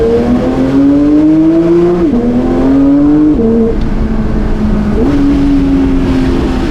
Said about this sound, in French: On écoute ce moteur.